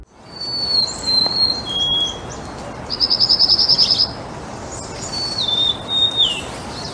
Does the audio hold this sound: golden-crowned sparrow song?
yes